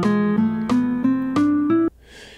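A synthesized plucked tone in Guitar Pro plays six ascending notes of the E Phrygian dominant scale in even succession, each ringing clearly, then stops abruptly.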